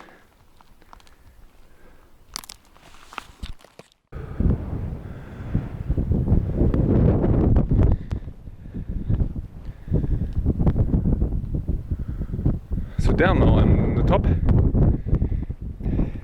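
Strong wind buffets the microphone in heavy gusts at Saguaro National Park, Arizona, roaring and rumbling loudly, with a person speaking briefly beneath it.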